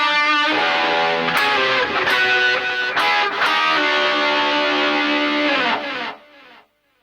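Distorted electric guitar plays an intro section in a lesson setting, a loud, steady run of driven chords and notes with sharp accents, ringing out and fading at the end.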